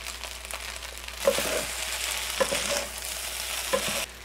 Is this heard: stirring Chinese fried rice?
yes